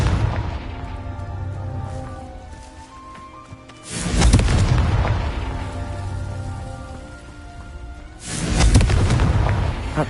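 Two loud explosions from the Confringo spell in the Hogwarts video game, each a heavy booming burst followed by a long rumbling decay, roughly four seconds apart, with background music underneath.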